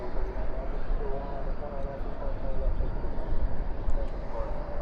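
A plane departs DFW airport at night, a dense, steady engine rumble heard at moderate distance and holding even throughout.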